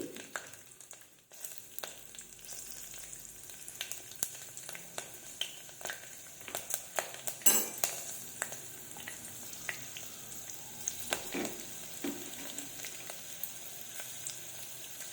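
Cumin and mustard seeds spluttering in hot oil in a pot, a quiet steady sizzle broken by frequent sharp pops and crackles, nearby and alone.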